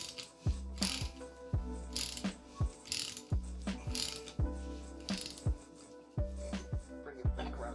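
A motor is turned over by hand with a ratchet while its timing is set, giving a series of sharp metallic clicks in irregular bursts, close and fairly quiet.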